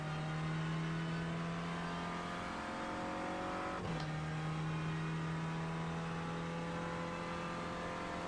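Renault Clio production car racing at VIR in a racing video game, a steady close engine drone holding a constant pitch with a brief shift blip midway, alone without talk.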